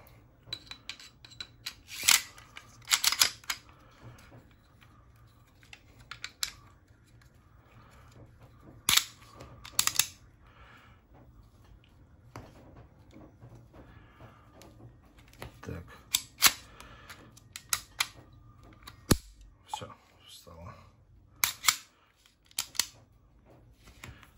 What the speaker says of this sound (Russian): Пистолет можно собирать в обратном порядке.